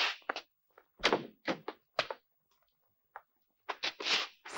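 A door bumps and thuds as someone enters a room, heard as scattered close knocks and clunks with short gaps of silence between them.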